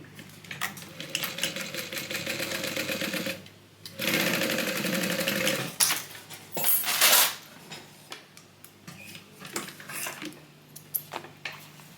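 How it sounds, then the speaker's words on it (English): A sewing machine runs a basting stitch through a Bible cover in bursts of rapid mechanical clatter, stopping and restarting, with small clicks and handling noises between runs, close and clear. "I just did a basting stitch just to hold that in place."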